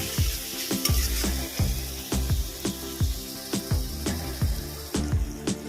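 Masala of turmeric and chili powder sizzles in a pan with a splash of water for a spicy katla fish curry, a steady hiss broken by a regular series of sharp metal utensil knocks against the pan while stirring.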